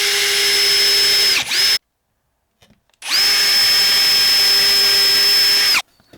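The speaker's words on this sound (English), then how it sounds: "we're going to do a pilot hole first with a 4 millimeter drill bit" A power drill with a 4 mm bit whines at high speed as it bores pilot holes into timber over scrap wood, stopping for a short pause, then running again in a long steady burst.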